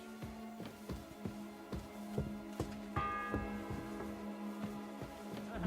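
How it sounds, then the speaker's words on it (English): A church bell tolls in Kingdom Come Deliverance II, a steady series of resonant strokes about every half second, with ringing overtones hanging between the hits and no voices over it. "The sixth bell."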